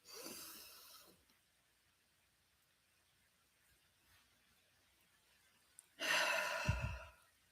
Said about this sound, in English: we inhale for 4, hold for 4, exhale for 4, hold for 4